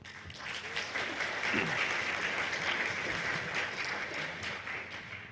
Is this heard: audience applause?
yes